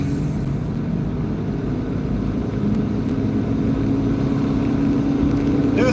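Inside a Mercedes-Benz car on the road, a steady low engine and road rumble hums continuously, fairly loud, with a faint voice now and then.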